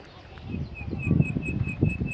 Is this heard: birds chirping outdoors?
yes